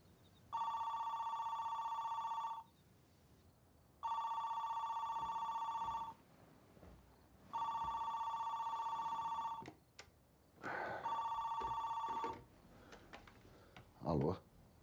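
A telephone rings in four loud electronic bursts of about two seconds each, evenly spaced with short gaps, followed by a brief handset clatter and a little faint talk.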